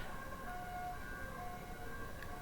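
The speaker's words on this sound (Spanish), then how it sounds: "suenan ambulancias" Ambulance sirens passing outside, distant and muffled, a steady wailing tone that holds under a low ambient hum.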